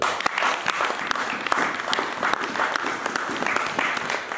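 A church congregation applauds during a sermon, dense, sustained clapping close by with a few sharper individual claps standing out.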